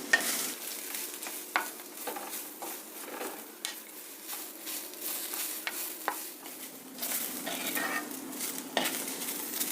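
Cumin seeds and a few curry leaves frying in a pan alongside green chillies, a steady close sizzle with scattered sharp crackles and occasional scrape-and-clink of a stirring utensil against the pan, no voices.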